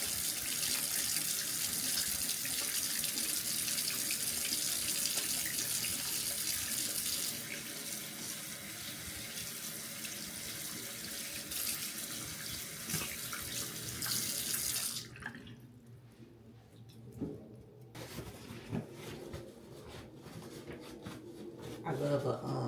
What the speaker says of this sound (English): Oh, I need to wash my hands.